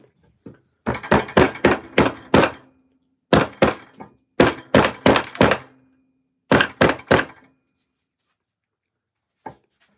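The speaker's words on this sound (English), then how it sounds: "I should probably use a rubber mallet, shouldn't I?" Rubber mallet blows on a maple selfbow being shaped, landing as close, sharp knocks in quick bursts of four to five strikes separated by short pauses, with one isolated tap near the end.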